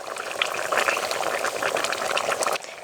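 Bata fish curry with green tomatoes bubbles steadily in a pan, a dense continuous simmering hiss with small pops, ending abruptly near the close.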